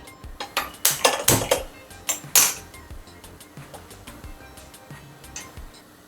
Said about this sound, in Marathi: स्टीलची कढई घेतली आहे मी गॅस लावते खाली